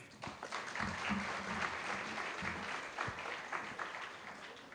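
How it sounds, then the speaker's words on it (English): Audience at the inaugural session of an academic conference gives a round of applause, an even, moderately loud spread of many clapping hands filling the room for several seconds. "So let's begin with a round of applause"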